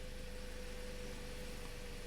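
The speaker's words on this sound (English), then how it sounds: "Right off the bat, I can tell that the engine sounds better." A 2009 Toyota Corolla engine runs smoothly at a steady idle after a cylinder misfire repair, giving an even, continuous hum close to the microphone with no talk.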